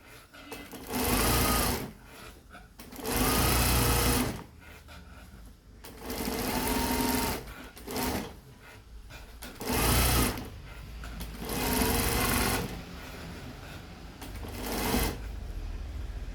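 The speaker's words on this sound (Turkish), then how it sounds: "Ve düzelte düzelte düz dikişimi geçiyorum." Sewing machine running in bursts as it stitches a straight seam on a dust cloth, with a stitch length of about 4.5 to 5, several loud runs separated by short pauses.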